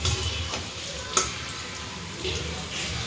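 Aloo cutlets shallow-frying in a pan give a soft, steady sizzle close by, with one brief clatter partway through.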